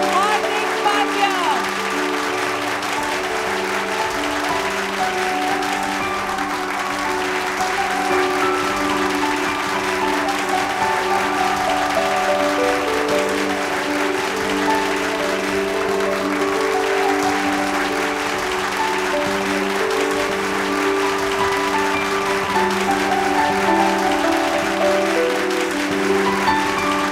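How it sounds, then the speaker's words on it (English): Sustained, loud applause from a large crowd fills a sangeet ceremony honoring cricketer Hardik Pandya, clapping steady and unbroken throughout with music playing underneath. "A biggest round of applause for Hardik Pandya."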